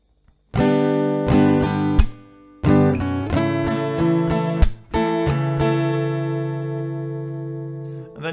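Slow acoustic guitar strumming pattern, each chord strum ringing out loudly with a few quick muted chops between, played alone without talk and fading into a sustained final chord.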